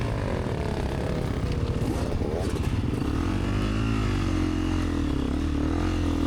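A motorcycle on a cross-country race course, its engine droning loud and steady throughout with small rises and falls in revs as the rider pushes on.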